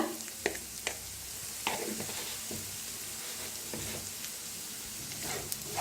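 Turmeric roasts in hot oil in a pan for a rustic Maharashtrian eggplant dish, giving a steady, soft sizzle with scattered light clicks and pops from stirring.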